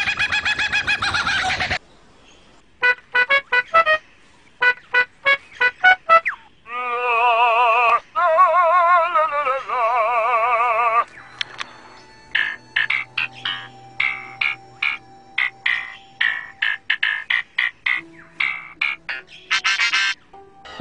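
A lyrebird, the one kept at Adelaide Zoo in Australia, mimics sounds it hears, producing close, loud bursts of varied calls, rapid clucks, squawks, warbling tones and mechanical-like chirps with brief silent gaps between them.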